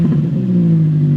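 Straight-piped Subaru BRZ engine revving up close, a loud, raspy low drone that holds a steady pitch over a brief moment.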